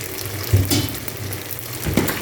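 Spaghetti and macaroni fry in a hot serving pot with butter or oil, giving a loud, continuous sizzle. Two heavier stirring thumps come through close by, and no voices are heard.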